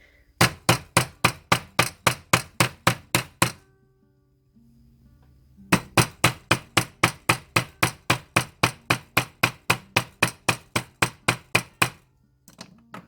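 A marred nylon-head hammer strikes wire on a small anvil in two fast, even bursts of about a dozen sharp, loud taps each, separated by a brief pause, with no talking.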